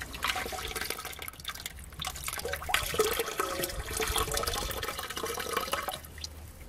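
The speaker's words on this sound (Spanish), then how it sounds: "Trato de sacar acá un poquito de exceso de agua." Excess water being poured and drained off freshly slaked quicklime paste made by the traditional method, a steady close wet sloshing and trickling with dripping, continuous throughout with no talk.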